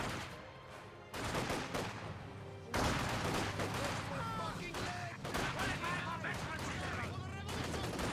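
Gunfire in the video game Company of Heroes 2, bursts of rifle and machine-gun fire crackling in dense volleys over a battle soundscape, steady and moderately loud throughout.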